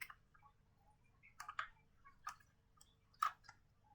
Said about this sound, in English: Waiting for that click.